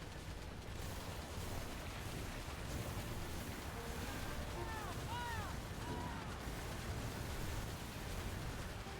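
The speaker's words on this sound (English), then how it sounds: "These waves are messing up my aiming." Steady ocean waves wash in the pirate naval game Skull and Bones, a constant broadband surf-like rush with wind, joined midway by a few faint whistling tones.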